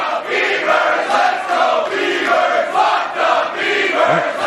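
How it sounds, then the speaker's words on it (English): Partisan crowd at a Pro Wrestling Guerilla show cheers and roars in a continuous, surging wall of noise from a large indoor audience, with swells of louder shouting and no clear voice standing out. "Very, very partisan crowd here."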